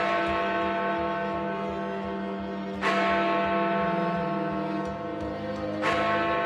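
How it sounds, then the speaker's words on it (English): Big Ben, the great bell in the Elizabeth Tower, struck by its hammer twice, each loud ringing strike followed by a long humming decay that overlaps into the next, heard alone with no talk. "this time we're only ringing 1 bell"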